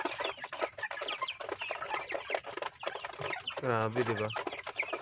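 45-day-old broiler chickens cluck and squawk busily while scrambling for feed at 4:40 am, a dense chorus of close calls with one prominent drawn-out squawk, as a person talks over them.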